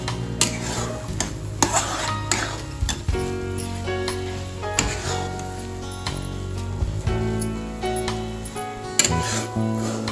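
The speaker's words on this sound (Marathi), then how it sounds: "गाठी होऊ द्यायच्या नाही तर छान प्रकारे असं मिक्स करायचं" Semolina sheera being stirred with water in a pan to keep lumps from forming, a steady scraping and sizzling bed with recurring utensil knocks and clinks that carries through the whole stretch, fairly loud and close.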